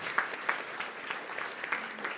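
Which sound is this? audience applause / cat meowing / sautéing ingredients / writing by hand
audience applause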